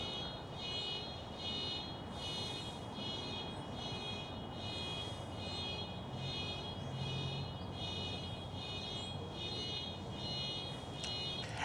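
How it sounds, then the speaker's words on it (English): A car alarm going off in the distance while in a garden beside perennials, a steady, pulsing electronic tone repeating in regular bursts over a low background hum for the whole stretch. "Are car alarms even effective anymore?"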